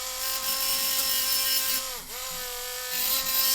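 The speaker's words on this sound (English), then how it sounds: "I'm going to put another little engraved line in the center, as best as I can tell" An engraving tool scratches a fine line into a harmonica reed plate on a Seydel diatonic, a steady close whining scrape with a pitch dip midway, uninterrupted by speech.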